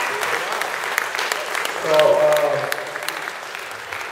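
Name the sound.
audience applause at awards ceremony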